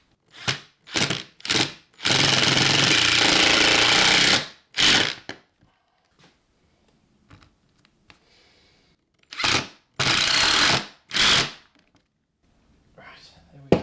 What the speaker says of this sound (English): Drill a hole, drill into there.